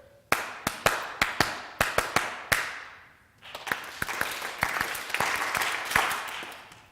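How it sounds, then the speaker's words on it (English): An audience claps a rhythmic pattern: a few sharp, evenly spaced claps, a short pause, then a fuller burst of many hands clapping together in a steady beat. "So I want everyone to clap like this."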